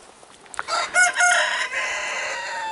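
A rooster crows alone at close range, one loud drawn-out call with a rising start and a long sustained tail, against a quiet background.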